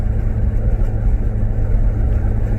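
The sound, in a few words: Volkswagen Golf R car driving at speed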